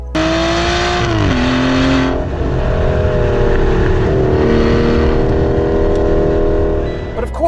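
An Aston Martin Vanquish S engine runs loud and steady close by, its deep tone rising and dipping slightly with a few light revs.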